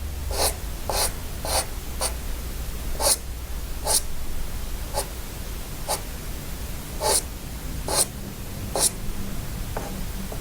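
A pencil lightly shading a coffee cup drawing on paper gives soft, repeated scratchy strokes in short bursts, close and quiet over a faint background hiss.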